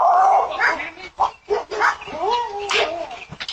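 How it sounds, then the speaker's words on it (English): A dog in a played video clip barks and yips in short bursts mixed with whimpering, close and loud, with voices talking over it. "Yeah, dog."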